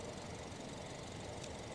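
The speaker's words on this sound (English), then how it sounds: "so the engine is idling" The engine of a Jetour Dashing Prime SUV idles with a faint, steady low hum and a light mechanical clatter, even and unbroken throughout.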